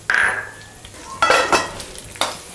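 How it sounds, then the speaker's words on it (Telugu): A tempering of mustard seeds, dried red chillies, curry leaves and garlic sizzling in oil for palak dal, close crackling bursts with metallic utensil clinks and stirring scrapes, no talk. "ఇలా పోపు చిటపట్లాడాక ఆపేసేయాలి."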